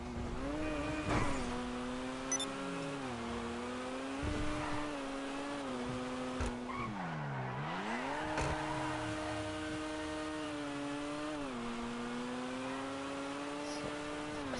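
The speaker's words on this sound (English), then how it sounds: "Actually super like how this car sounds." A car engine hums and revs through the gears on the move. The pitch rises and falls with each shift and dips sharply once midway, steady and close throughout.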